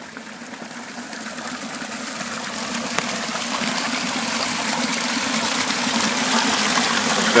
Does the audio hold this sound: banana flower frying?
no